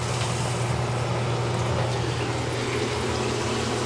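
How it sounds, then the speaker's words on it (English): Water rushing into the chambers of a reverse osmosis system as it fills, a loud steady hiss of flowing water over a low pump hum, close and continuous, no voices. "As you can see, the chambers are filling."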